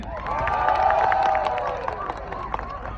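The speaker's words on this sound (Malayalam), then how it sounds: "പുരുഷന്മാർ മാത്രം കൈയടിച്ചേ." Crowd of men at a Kerala carnival in Dublin clapping and cheering together, a dense, loud burst of applause mixed with shouts that swells then slowly tapers off.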